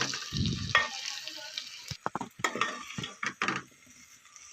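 Potato curry is stirred in a pan, with a soft sizzle under irregular spoon scrapes and clinks against the metal, close and moderately loud.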